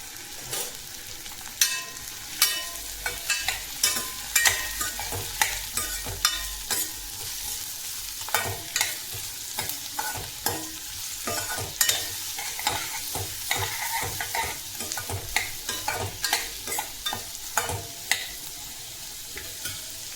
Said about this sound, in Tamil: வெங்காயம் நல்லா பொன்னிறமாக வதக்கிக்கோங்க.